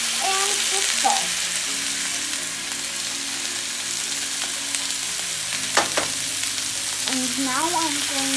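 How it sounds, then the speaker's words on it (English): Tomatoes and salt frying with sautéed onions in a pan for matar paneer, a loud continuous sizzle with occasional stirring knocks and a low background hum. "The onions are sauteed, and now I'm going to add the tomatoes."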